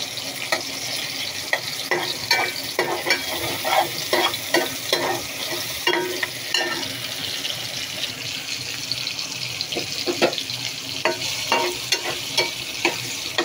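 Onions frying in a pan, stirred now and then: a steady bed of sizzle with repeated scraping strokes of the spoon throughout, close and fairly loud, no talking.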